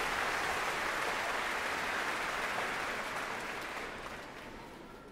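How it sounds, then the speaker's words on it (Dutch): Audience applause for children at a spooky family concert by an orchestra, a steady dense wash of clapping from a large crowd that slowly tapers off. "applaus voor deze kindjes"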